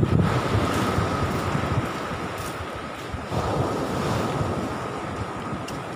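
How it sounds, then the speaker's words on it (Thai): An east wind blows onshore at Nong Bua beach, with waves washing in and constant wind buffeting the microphone, a loud, continuous roar with no voices. "หาดจะมีสภาพไม่น่าดูครับลมตะวันออกเข้าชายฝั่งรับลมก็จะมีสภาพไม่ค่อยดีอย่างนี้แหละ"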